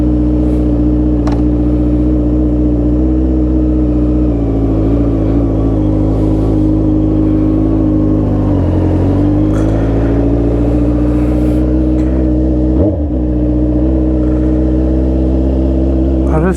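A derestricted Honda CB650R motorcycle engine runs loud and close for a long stretch, with a steady throbbing idle and a few blips of revving that rise and fall.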